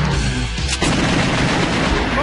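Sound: gunfire from shooting zombies in The House of the Dead 2 video game

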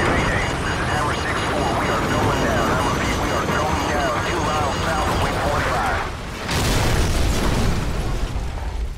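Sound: incoming missile explosion in video game Call of Duty 4

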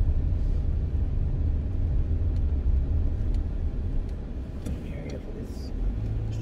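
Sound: truck barreling down the road

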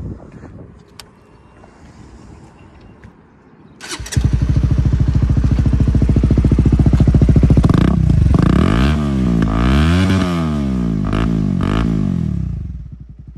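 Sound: modified Honda CBR150R motorcycle with Acrobatic Hexa exhaust

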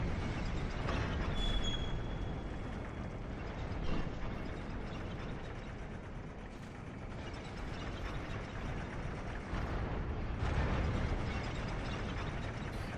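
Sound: Fire Snake pyromancy in video game Dark Souls II

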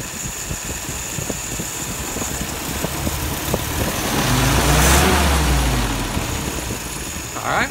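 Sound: car engine revving during an acceleration stumble test

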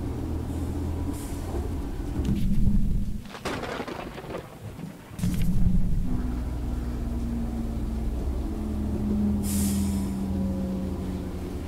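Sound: moving train in Choo Choo Charles video game

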